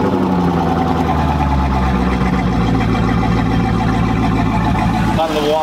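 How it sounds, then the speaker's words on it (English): Inboard boat engine revving out of gear on a fake-a-lake flusher hooked to a hose, a loud steady mechanical roar with deep low rumble that holds throughout and drops off abruptly near the end. "Just rev the engine up."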